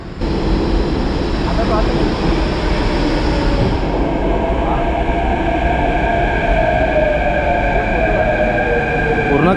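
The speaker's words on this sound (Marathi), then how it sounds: "वर्सोवा घाटकोपर मेट्रोने बऱ्याच दिवसांनी प्रवास करतो आहे" Loud, steady rumble inside a Mumbai metro train travelling from Versova to Ghatkopar, with droning motor tones that rise and fall as the train runs continuously.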